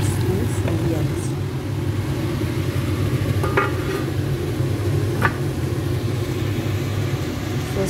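Water poured onto onions frying in a pot: a steady, dense sizzle and hiss throughout with a low rumble underneath and a few faint clinks, close and fairly loud.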